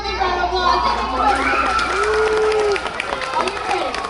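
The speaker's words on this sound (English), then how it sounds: "let's get loud for them. Give them a big round of applause" Children and adults in a crowd at a library animal show shout and cheer excitedly, with some scattered clapping mixed into the loud, continuous din of voices.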